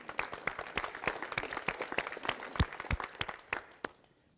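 An audience at a school address claps together in a dense, sustained round of applause that tapers off toward the end, with no talking over it.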